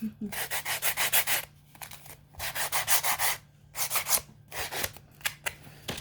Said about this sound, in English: Sand, sand. Sand.